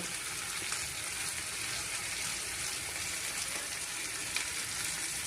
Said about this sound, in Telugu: టమాటా కూడా వేగిపోయింది దగ్గర పడుతుంది బాగా వేగాయి కదా